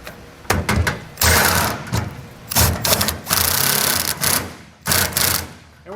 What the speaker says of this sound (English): We're going to use a 15/16 socket